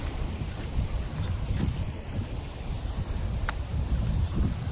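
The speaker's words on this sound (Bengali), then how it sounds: "এখানে প্রচণ্ড বাতাস হচ্ছে, প্রচণ্ড বাতাস হচ্ছে এখানে" Strong wind buffets the microphone outdoors near a boat on open water, a steady broadband rush with gusty swells throughout and no voices.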